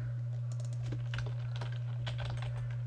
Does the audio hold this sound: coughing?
no